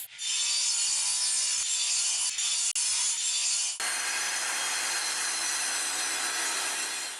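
Table saw cutting wooden desk workpieces, a continuous loud high-pitched whine of blade through wood that shifts to a slightly different steady tone partway through, with no talk.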